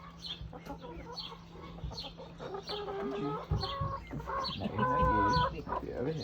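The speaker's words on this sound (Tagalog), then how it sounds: "Chicken, chicken. Come on, chicken." Several chickens cluck and squawk nearby in short irregular bursts, louder toward the end, with a low background hum.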